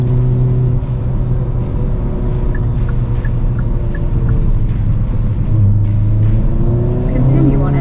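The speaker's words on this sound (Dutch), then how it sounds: "we zitten nu op 4000 toeren" A 2022 Hyundai Kona N with a 280 hp engine holds a steady, loud, close drone around 4000 rpm from inside the cabin, with small pitch shifts and a light hum throughout.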